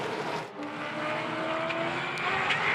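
Supercars race cars at speed on a circuit, a steady loud engine roar with shifting pitch as cars pass, no talk over it.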